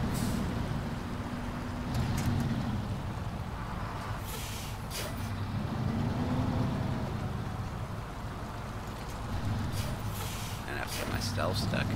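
A heavy truck in the off-road game SnowRunner strains while stuck, its engine droning in a steady low rumble with brief hissing bursts now and then.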